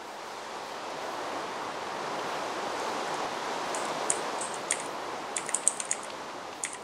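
Steady hissing rain in the video game Minecraft fills the background, while sharp keyboard typing clicks in close toward the end.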